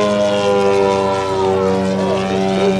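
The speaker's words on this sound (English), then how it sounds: "It flies so well. It's a 48-pound model aircraft." A large 48-pound radio-controlled Hawker Sea Fury model airplane drones overhead with a steady, loud propeller-engine buzz, its pitch shifting slightly as it passes, with no voices.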